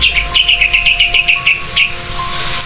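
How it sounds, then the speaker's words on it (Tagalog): A bird chirps close by and loudly in a rapid string of about a dozen bright, evenly spaced tweets, then pauses and gives one more before the sound fades into a faint steady background. "May ibon pa oh."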